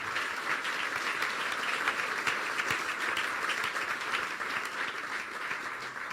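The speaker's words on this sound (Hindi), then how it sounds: "यीशु के लिए जोरदार तालियां बजा दें।" A congregation at a church service claps together, a steady moderate wash of applause from a room full of people continuing for several seconds without speech.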